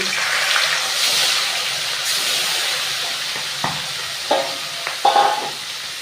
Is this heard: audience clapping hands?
no